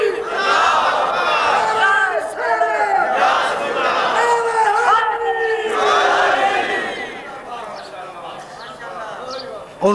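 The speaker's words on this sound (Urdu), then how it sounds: "اتنی بلند صلوات پڑھیں جیسے اہل بیت لائق صلوات ہے" A large mosque or majlis congregation loudly reciting salawat in unison, a dense roar of many voices with chant-like rising and falling, steady and close throughout, during an Urdu religious gathering.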